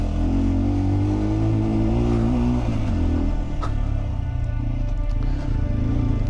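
A motorcycle engine runs steadily and loud on a rough mountain valley track near Skardu, the bike heating up during the climb, with a low continuous drone and slight pitch shifts.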